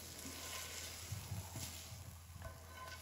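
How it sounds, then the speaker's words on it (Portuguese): Rice frying in a pan for Chinese fried rice gives a steady close sizzle with soft scraping and a few brief clatters, no talking. "Agora a gente vai fritar o arroz."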